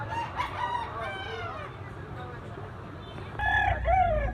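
A bullstag rooster of about 3.5 months gives a full cock-a-doodle-doo at close range, then crows again after a pause, each call loud and drawn out over faint background voices.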